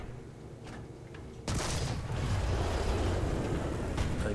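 A Type 1 Ho-Ni I Japanese tank destroyer in the video game War Thunder fires its gun with one sudden loud blast. A sustained rumbling roar follows over the quieter engine and battle noise.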